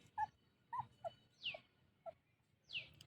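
Young goat kids nursing give short, soft moaning bleats, about six of them spaced through the moment, close but quiet, with a couple rising into higher cries.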